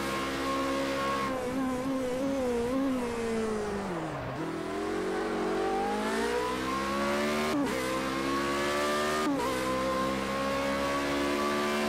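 A race car in Project CARS 2 revs hard and accelerates on a mountainous Austrian circuit, its engine whine rising and falling continuously with brief dips at gear shifts, loud and close throughout.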